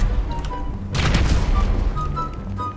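An explosion in the video game GTA 5 lands as a deep booming burst partway through, rising over a continuous rumbling game soundscape with some gunfire-like crackle.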